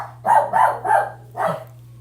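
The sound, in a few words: dog barking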